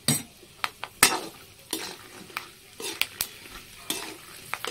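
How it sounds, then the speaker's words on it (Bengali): Peanuts fry in hot oil with a pinch of salt, sizzling steadily under repeated sharp scrapes and clinks of a spoon stirring against the pan, close and alone. "এই তেলের মধ্যেই আমি বাদামগুলো ভেজে নেব।"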